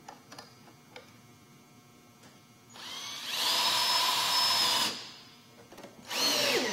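A power drill drives screws to fasten ridge panel tiles to a ridge board, two loud whining runs, the first long and the second brief, with quiet clicks and handling noise between them.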